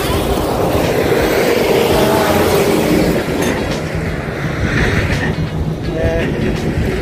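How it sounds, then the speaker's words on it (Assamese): A train rumbles past beneath a road overbridge beside the new National Highway 17, its wheels clacking on the rails under steady close noise, with faint voices in the background. "একদম বঢ়িয়া ট্ৰেইনৰ লাইন এই অভাৰব্ৰিজৰ তলত"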